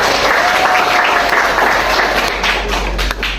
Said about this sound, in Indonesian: Tepuk tangan dong untuk Nabila.